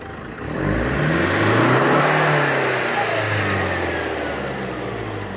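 A Toyota Commuter 2.5 diesel van engine, one with a black-smoke problem, revs up loudly and holds a steady, droning roar that swells and then eases slightly, with no talking.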